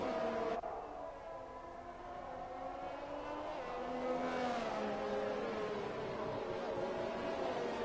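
Race cars in a simulated Saudi Arabian Grand Prix esports race sweep through the middle sector, engine tones rising and falling in overlapping harmonic sweeps at steady moderate loudness, with no voices over them.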